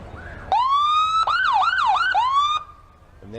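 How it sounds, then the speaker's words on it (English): A siren wails close by at a Christmas street parade, sweeping up and down in quick yelps for a couple of seconds before cutting off, with no voices. "The kids are having some fun with the siren in there."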